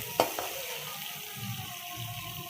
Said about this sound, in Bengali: উচ্ছেটা আমি আলাদা ভেজে নেবো আগে।